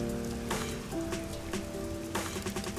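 Rain falls steadily in a busy, neon-lit district in the video game Master Detective Archives: Rain Code, a constant hiss with faint splashes, beneath low tonal music and a few brief soft accents.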